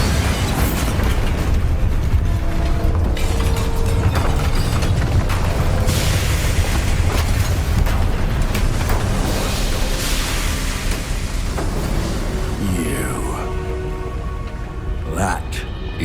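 Bombarda spell explosions in Hogwarts Legacy rumble loudly and continuously, with booming bursts and debris clatter layered throughout, fading somewhat near the end.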